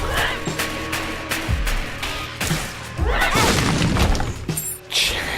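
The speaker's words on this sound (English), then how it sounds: "Dang it, bombs." Bombs exploding in the video game The Binding of Isaac: Rebirth, with a couple of booming blasts and crashing impacts layered over busy game sounds, loud and close.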